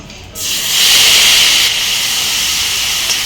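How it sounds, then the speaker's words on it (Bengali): Ginger, green chili and onion paste hits a hot wok for a shrimp malai curry and erupts into a loud, steady sizzling hiss that holds for about three seconds, with no talking. "আদা, কাঁচামরিচ, পেঁয়াজ একসঙ্গে পেস্ট করে এখন আমি কড়াইয়ের মধ্যে দিয়ে দেব।"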